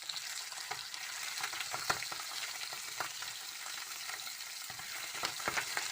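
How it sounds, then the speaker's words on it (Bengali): Pabda fish frying in oil after being turned to the other side, a dense, continuous close sizzle with sharp spattering crackles throughout and no talking. "মাছটা উল্টে আমি আরেক পাশটা ভালোভাবে ভেজে নিব।"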